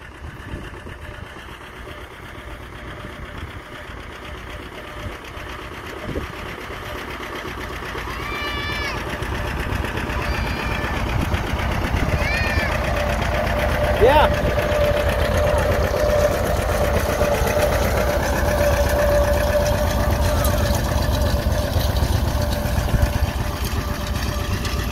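John Deere R tractor working a field, likely in fourth gear: a steady engine chug that grows louder as it approaches and passes, with some birdsong and faint background voices.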